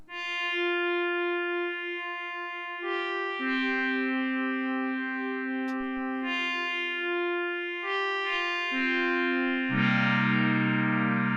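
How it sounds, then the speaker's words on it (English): A buzzy Arturia MiniFreak synthesizer tone shifting between several pitches, with a wobbling, pulsing modulation running through each held note; no voices. "we already have a sort of pulsing going on in the sound"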